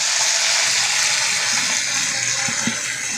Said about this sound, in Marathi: आपल्याला कढीपत्ता घालायचा आहे आणि थोडीशी कोथिंबीर पण टाकायची आहे याच्यामध्ये फोडणीला